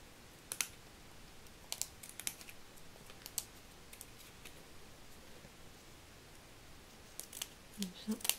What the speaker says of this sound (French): là, on vient couper la dentelle qui dépasse